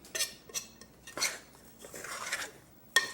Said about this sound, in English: Now let's just get that grit off the bottom.